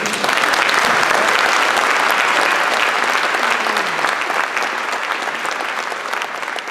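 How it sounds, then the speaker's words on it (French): Loud, sustained applause from a large audience at a mayor's New Year ceremony honoring volunteers, dense clapping that fills the room and eases slightly toward the end. "je pense qu'on peut tous les applaudir"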